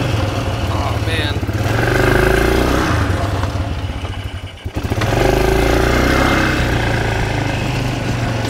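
An ATV engine under repair revs loudly and close, a continuous throaty drone that rises, dips briefly around the middle, then climbs again, with voices talking over it.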